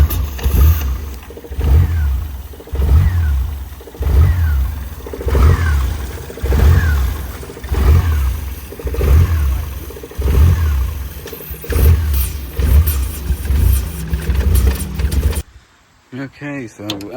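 A Hummer H3 engine cranking and sputtering on brake cleaner sprayed into the throttle body makes rhythmic surging pulses about once per second, loud and close, before cutting out near the end, while a person talks over it.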